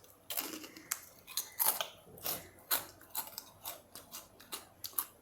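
Crunchy puffed wheat chivda being chewed close up, a quiet run of crisp, irregular crackling bites and crunches repeating steadily with no talking.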